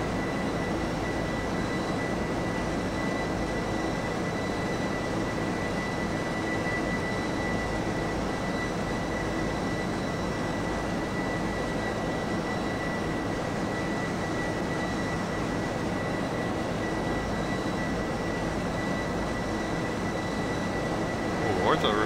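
Boeing 757 jet engines drone in the X-Plane 11 flight simulator, a loud, constant low roar with a faint steady high whine on top that runs unbroken throughout.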